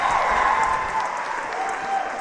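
Crowd cheering and applause fill the space around an obstacle course competition as an athlete makes a successful grab, a loud, sustained roar from the audience that eases slightly toward the end.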